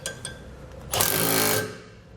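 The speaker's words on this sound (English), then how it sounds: "We can now go ahead and tighten down that bolt that we dropped down through using a 11/16 socket and 5/8 wrench." A suspension bolt is tightened with an 11/16 socket and a 5/8 wrench during an overload-spring installation. A couple of light taps are followed by a brief close-up burst of rapid mechanical whirring that lasts under a second.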